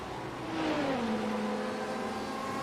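An LMP2 prototype race car in a sim racing endurance event at Hockenheim passes by, its engine note a steady whine that dips in pitch as it goes past, moderately loud over track ambience.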